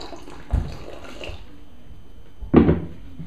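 Water splashes onto eco earth substrate in a one-gallon jar tarantula enclosure with cork bark, two short close pours about two seconds apart over a quiet background.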